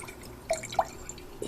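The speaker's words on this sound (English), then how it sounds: "fill your container just about all the way full of water" Water poured into a small container, heard as a few faint, scattered drips and splashes over a soft background rather than a steady stream.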